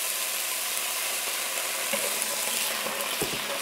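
Broccoli cooking in a pan with a little water, a steady bright sizzle with occasional soft knocks and stirring clicks, close and continuous.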